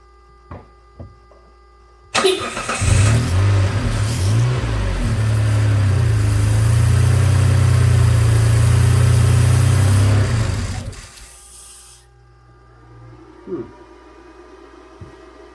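A 2007 Mitsubishi Outlander that is hard to start after refueling cranks and catches abruptly, then runs steadily at idle for about nine seconds before shutting off, leaving a few faint clicks and knocks in the quiet.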